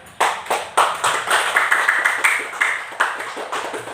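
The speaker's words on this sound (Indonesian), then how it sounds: "Ibu beri aplaus kepada kelompok 2" A class of students claps for group 2. The applause comes as a run of sharp, separate hand claps in a quick irregular rhythm that carries on steadily, close and fairly loud, with no talk over it.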